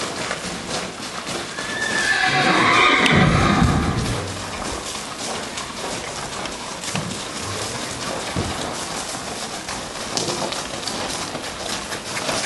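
Horses neigh and whinny inside stables at a Chilean horse breeding farm in Curacautín, Araucanía, with hooves clip-clopping and a steady rain-like patter; one loud whinny stands out early, with quieter movement after.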